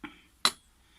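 Graphite lampwork marvers are handled with two brief knocks, a soft tap followed by a sharper clack, close and alone.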